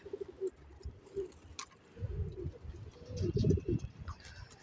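Pigeons coo in low, soft, repeated bursts nearby in a coop on a cold day, with some faint rustling and scattered chirps in the background.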